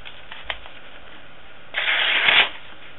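A Tanto knife slices through a sheet of paper. After a faint tick, one quick, crisp rasping swish lasts under a second, close and clear against a quiet background.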